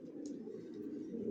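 Long-distance racing pigeons of a Janssen line coo together in a low, continuous throaty burble, close by and fairly soft, with a faint higher chirp near the start.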